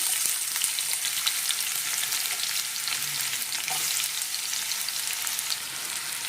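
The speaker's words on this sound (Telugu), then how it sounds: "ఇప్పుడు దీంట్లో మనం ముందుగా కట్ చేసి పెట్టుకున్న ఉల్లిపాయ పచ్చిమిరపకాయ వేస్తున్నాను" Chopped onion and green chili frying in hot oil for a brinjal curry, a dense, bright, steady sizzle close by with faint stirring clinks, continuous and without talk.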